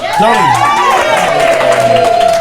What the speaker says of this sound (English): Give me a round of applause for Tony.